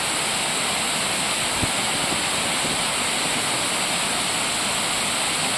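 A river waterfall swollen by rains cascades in a continuous broadband roar of falling water, steady and enveloping from start to finish.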